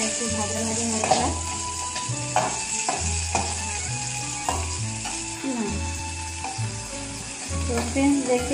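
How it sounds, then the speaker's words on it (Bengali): Tomatoes frying in a pan with browned onion and dried chili, giving a continuous close sizzle broken by clinks and knocks as the pan is stirred. "পেঁয়াজটা একদম লাল হয়ে গেছে, টমেটোটা ভাজা হচ্ছে।"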